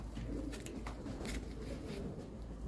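Buchon Colillano pigeons give soft, low coos, faint and close, running in a murmuring stretch with a few brighter rustles or wing flutters.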